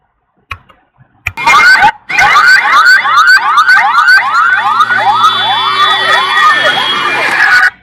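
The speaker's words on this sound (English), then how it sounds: "That is actually a ambulance in India" A loud ambulance siren in India wails in rapid repeating up-and-down sweeps after a few brief clicks, continuing steadily to the end.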